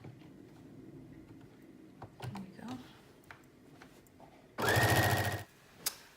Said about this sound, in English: I've serged my back seam of my jacket